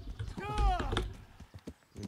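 A horse whinnies in a video game with a rising, wavering neigh, followed by a few scattered hoof clops, with a voice speaking over it.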